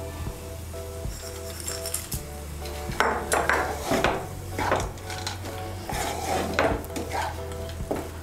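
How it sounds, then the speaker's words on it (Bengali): Boiled, chopped banana blossom is stirred with spices and fried peanuts in a pan, giving repeated scraping and knocking strokes of a spoon against the pan with soft sizzling underneath, fairly close and moderately quiet. "মোচাটাকে মশলার সঙ্গে ভালো করে মিশিয়ে নেব।"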